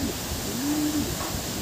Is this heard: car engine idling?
no